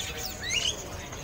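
Bali white-eye birds caged at a bird market in Pramuka give a short, thin high chirp, faint against a soft background hum.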